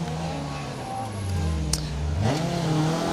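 A Peugeot 106 rally car on a live rally stage, its engine droning with a steady low tone, then rising in pitch as it revs and accelerates near the end, heard fairly close and alone.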